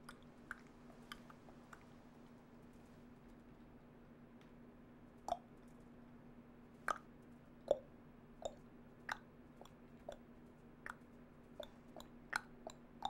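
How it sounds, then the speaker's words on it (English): Clicking noises made with the mouth, a series of sharp, close tongue clicks spaced irregularly over a quiet steady hum, sparse at first and coming more often toward the end, with no talk. "I'm just making like clicking noises with my mouth now"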